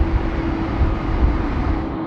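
Night takeoff of a China Airlines airliner on runway 34L at Sydney Airport, a steady broadband jet roar holding at constant loudness with a strong low rumble throughout.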